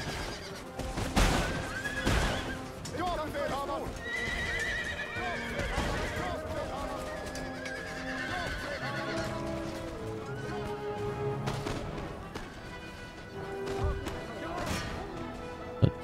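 Cavalry horses whinny and gallop with clip-clopping hooves during a battle in Empire: Total War, amid a dense, continuous din of crashes and thuds.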